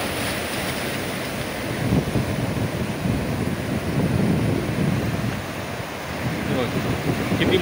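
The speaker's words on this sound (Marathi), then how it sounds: "तर बघा इकडे लाटा कशा प्रकारे येत आहेत त्या, आणि किती जोरात येतात त्या बघू शकता तुम्ही।" Sea waves surging at high tide on the Mumbai shore after rain, a continuous loud rushing roar with wind buffeting the microphone close to the water's edge.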